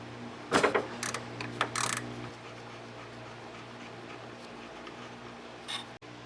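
Metallic ratcheting clicks from a wrench loosening a 13mm nut on a stud, done while replacing the AC condenser on a Chevrolet Impala; a few close, loud bursts in the first two seconds, then a quiet hum.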